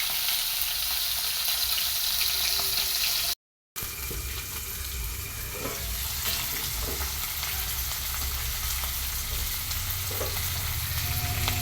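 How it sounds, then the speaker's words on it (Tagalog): Dried fish (tuyo) frying in a pan, giving a steady, close sizzle and crackle that runs throughout, broken by one brief dropout, with occasional soft stirring and clinks of utensils. "Magprito din tayo ng tuyo para balanse ang lasa."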